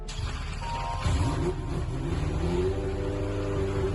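An F1 car engine revving in a racing video game, a loud mid-pitched engine note that rises and surges as it accelerates, sustained and close with no voices.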